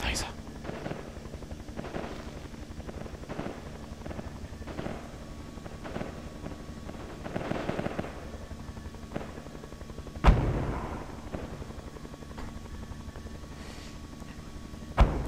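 Gunfire in the military shooter game Project Reality, with scattered single shots and distant booms over constant wind and engine rumble, plus one sharp loud crack near the middle, heard faintly in the background.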